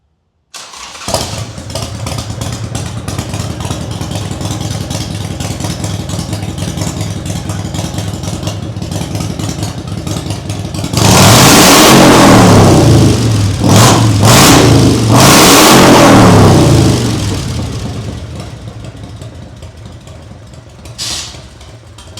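A 2003 BMC 514 Hooligan motorcycle with loud pipes and an old-school choke cranks and catches to a loud close idle, then blips through several sharp throttle revs before settling back down, with no talking.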